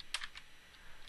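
A few quick, crisp clicks on a computer keyboard are heard close up and alone, one short burst of keystrokes followed by lighter taps.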